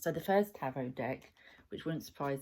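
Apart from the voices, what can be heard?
None of the usual background noises is heard.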